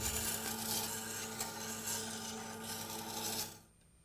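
A steel edge tool grinds against the turning stone of a Tormek sharpener, a steady close raspy scraping with slight pulsing that runs for over three seconds before stopping.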